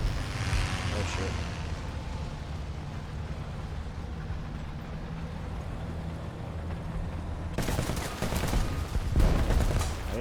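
Explosion in the War Thunder video game: a sudden broad burst lands late in a steady bed of engine and battle rumble, followed by another loud blast, with no voices over it.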